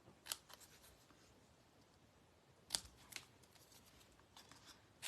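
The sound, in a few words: scissors cutting the ends of a paper banner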